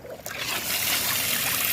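Water runs steadily through a pumped shower setup in a van, fed by solar-powered electrics and recirculated until hot. The spray is a continuous close hiss and trickle that builds after a brief softer start.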